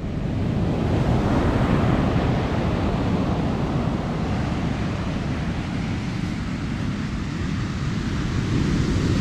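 Steady broadband roar of ocean waves and surf at a Palm Beach Shores beach resort in Florida, continuous and fairly loud, with wind buffeting the microphone and no voices.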